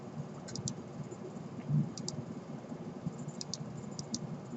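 A computer mouse clicks while lines are trimmed in an AutoCAD drawing: sharp, light double clicks repeat at irregular intervals over a low, steady background hum, close and fairly quiet.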